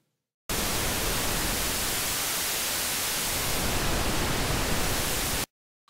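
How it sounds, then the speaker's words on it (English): Noise generator on a Swierk synthesizer blending pink and white noise, a steady broadband hiss that starts abruptly, holds at an even loud level for about five seconds, then cuts off. "The last sound generator is a noise generator where you can mix the noise between pink and white."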